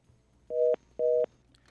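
Two short, identical steady beeps of a telephone line tone after a dropped call on a radio phone-in show, evenly spaced about half a second apart and clear against a quiet background.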